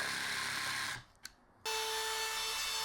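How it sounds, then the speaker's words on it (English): Jigsaw cutting wood: a loud, close buzzing rasp that stops for a moment with a small tap, then starts again at full speed and runs steadily to the end. "So I'm just going in with a jigsaw here, more practice with a jigsaw."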